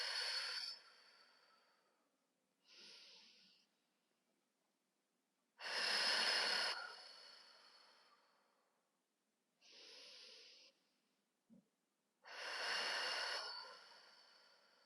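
Slow, deliberate breaths during a 90-90 breathing exercise, with several loud airy exhales and softer inhales separated by quiet pauses, close to the listener.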